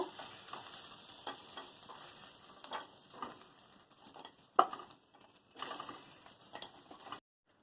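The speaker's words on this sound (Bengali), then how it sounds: "তেলের মধ্যে দিয়ে ভেজে নেব। কাঁকড়াগুলো ভাজা হয়ে গেছে, এবার নামিয়ে নেব।" Crabs fry in hot oil with a steady crackling sizzle, broken by several louder spatters and stirring clatters, close by, before the sound cuts off at the end.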